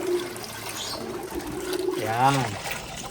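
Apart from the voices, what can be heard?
water being poured into a basin for bathing pigeons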